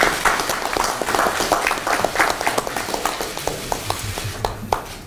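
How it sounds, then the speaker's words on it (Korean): Political party meeting audience applauding the floor leader Woo Won-shik, a smaller group clapping with distinct individual claps standing out, loud at first then thinning into scattered, sparser hits. "많은 고생을 해주신 우리 우원식 원내대표님께 박수 한번 보내주시기 바랍니다"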